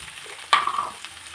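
Vegetables for a veg Maggi spring roll filling hit hot oil with a sudden loud sizzle that flares up and then settles into a softer frying hiss, with no talking.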